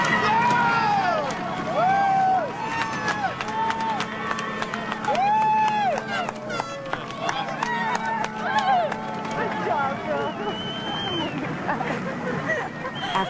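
A large crowd of thousands of spectators cheers and claps at a women's rowing race, a dense continuous roar with shouting voices rising above it throughout.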